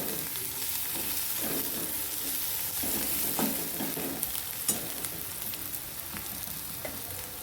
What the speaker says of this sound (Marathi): थोडी कोथिंबीर पण टाकूया आपण तेलावर छान परतून द्यायची कोथिंबीर